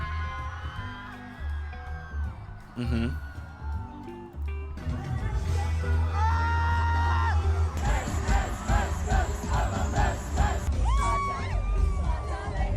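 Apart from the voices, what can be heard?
crowd cheering at a Coachella performance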